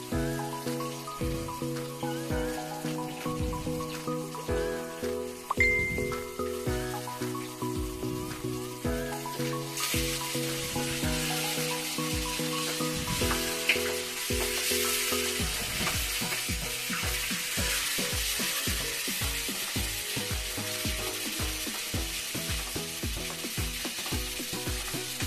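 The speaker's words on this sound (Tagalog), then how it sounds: "makinig lang po tayo sa niluluto namin dito na isda" Fish frying in a pan sizzles steadily throughout, a dense crackling hiss that grows brighter and busier about midway, with background music playing underneath and no talk.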